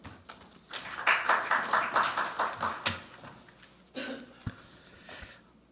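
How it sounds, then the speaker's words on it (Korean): Applause welcoming a speaker at a seminar on startups and merger review, a short burst of rhythmic clapping that rises, fades after a few seconds, then returns briefly with a few scattered claps. "큰 박수로 맞아주시기 바랍니다."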